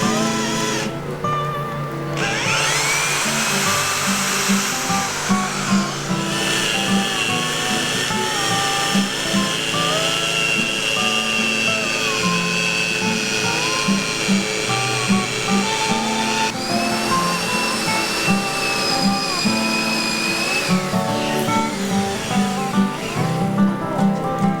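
A power tool cuts a 1 inch diameter hole in a log, droning loudly and continuously with a rising whine at the start and shifting pitch as the cut bites.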